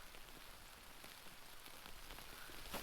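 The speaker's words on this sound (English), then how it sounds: "Started raining about an hour ago." Rain falling on a tent pitched high in Glen Nevis, a faint, even patter of drops with a steady hiss, unbroken throughout.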